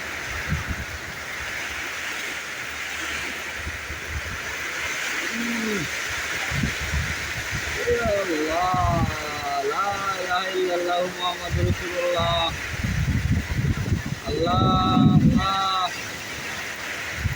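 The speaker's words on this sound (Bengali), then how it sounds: "প্রচণ্ড পরিমাণে বৃষ্টি আর বাতাস।" Heavy rain and strong wind buffet a home during a storm, a steady broadband roar with gusty wind rumble against the microphone, while a person talks over it partway through.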